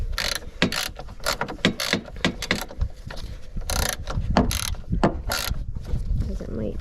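A hand ratchet loosens the battery hold-down on an L5P Duramax pickup. Quick bursts of sharp clicking repeat in irregular strokes throughout, close to the microphone.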